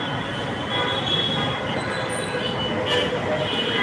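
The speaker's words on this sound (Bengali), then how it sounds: "এই যে মেট্রো রেল যাচ্ছে" A metro rail train passes close by on a busy street, a loud steady rolling rumble with a thin wheel squeal, heard briefly and continuously.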